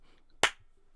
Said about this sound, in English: yeah! just one clap.